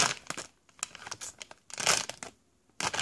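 Always Discreet trial pack sample packaging is torn open, giving bursts of crinkling and ripping plastic-paper sounds close up, irregular and loud with brief quiet gaps between pulls.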